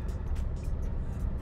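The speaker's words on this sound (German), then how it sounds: "Wir fahren hier jetzt natürlich sehr langsam am Übungsplatz" A car rolls very slowly across a driving practice ground, its low engine rumble a steady, faint drone from inside the cabin with no other sounds standing out.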